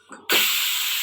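A pressure cooker cooking dal lets out a sudden loud burst of steam that starts abruptly and then holds as a steady, close hiss to the end.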